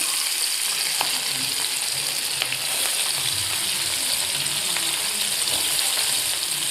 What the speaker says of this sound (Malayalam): അപ്പം നമുക്കിനി ആ എണ്ണയ്ക്കകത്തിലോട്ട് തന്നെ ഇഞ്ചിയും പച്ചമുളകും അരിഞ്ഞു വെച്ചിരിക്കുന്ന സാധനം എല്ലാം കൂടെ നമ്മളൊന്ന് വഴറ്റിയെടുക്കാവേ